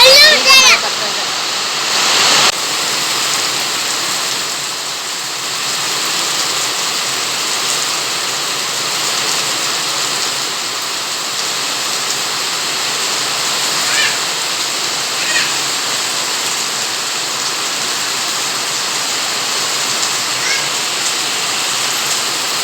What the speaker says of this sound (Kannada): ನೋಡ್ತಾ ಇರ್ಬೋದು ಮಳೆ ಎಷ್ಟು ಗಟ್ಟಿಯಾಗಿ ಮಳೆ ಬರ್ತಾ ಇದೆ ಅಂತ